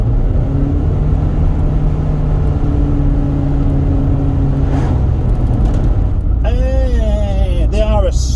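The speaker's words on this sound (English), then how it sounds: "They are a strange thing, these CVT gearboxes. It just sounds like a manual box that's slipping really rather badly" An MG ZS 120 Stepspeed SUV with a CVT gearbox gives a droning, steady engine rumble from inside the cabin while someone talks over it, with rising whiny tones as it pulls away near the end.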